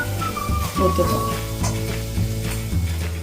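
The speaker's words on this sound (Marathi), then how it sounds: "कडकडीत तेलाचं मोहन घालून घेणार आहोत म्हणजे वडे खुसखुशीत होतील" Smoking-hot oil poured into flour dough for Konkani kombdi vade sizzles and crackles steadily up close, with a low hum of kitchen background running underneath.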